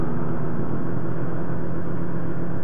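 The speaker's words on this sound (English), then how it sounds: "Revving pretty high, this thing." An ATV engine, either a Yamaha Grizzly or a Can-Am Outlander, revs high in a sustained loud drone with a broad rough roar and no letup, very close to the microphone.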